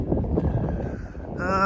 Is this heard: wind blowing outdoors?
yes